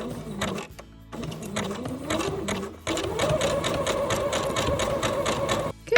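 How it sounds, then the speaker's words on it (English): A sewing machine stitches around the edge of a coiled rope bowl in rapid, rhythmic mechanical bursts, with short pauses between runs and a steadier final stretch, close and clear. "now I've sewn nicely around the edge"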